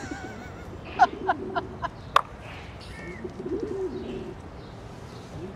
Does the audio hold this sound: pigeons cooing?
yes